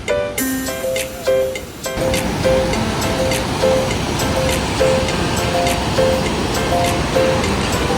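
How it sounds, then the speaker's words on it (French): Small waterfalls seen along a hiking trail with bridges, a steady broadband rush of falling water that starts suddenly after a quieter opening second, continuous and fairly loud, with faint tonal sounds layered over it. "Nos premières petites chutes qu'on voit en rentrant"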